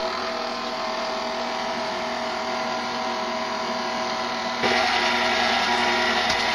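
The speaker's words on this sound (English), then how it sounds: "Blend these on low on your stand mixer or your handheld electric mixer until soft peaks form." A KitchenAid stand mixer running on low, a steady motor hum that jumps a little louder near the end, with no voices.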